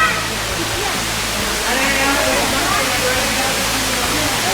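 Strong waterfall at a tourist spot near Udaipur, a steady, loud broadband rush of falling water that fills the whole clip, with faint voices of people nearby underneath.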